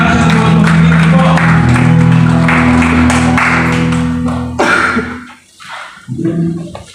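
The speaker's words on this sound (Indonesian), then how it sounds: "Tepuk tangan dan dahsyat buat Tuhan kita." A church congregation claps and cheers for several seconds in a broad, noisy wash of applause, with musical tones underneath, then it fades to a brief lull before a voice starts up.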